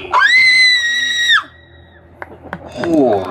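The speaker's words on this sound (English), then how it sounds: "On the count of 3, I want you to give us a blood-curdling scream." A young woman lets out a loud, sustained blood-curdling scream for about a second and a half at a live horror-host event at a drive-in theater, followed by quieter murmurs and people talking.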